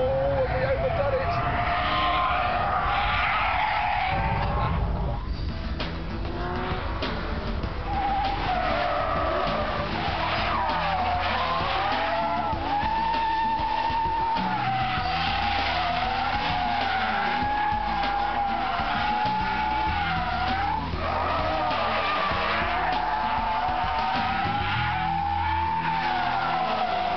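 Tyres squeal and skid loudly on a track as a Top Gear performance car power slides through a tight hairpin, the engine roaring and rising under a continuous screech, with someone talking over it.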